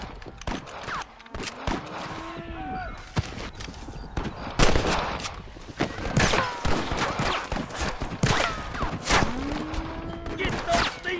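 Gunfire at rustlers in Red Dead Redemption: repeated sharp rifle and pistol shots crack in irregular bursts, near and loud, over galloping hooves and battle noise, with voices shouting in between.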